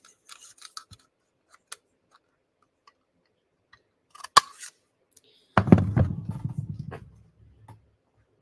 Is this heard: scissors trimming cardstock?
yes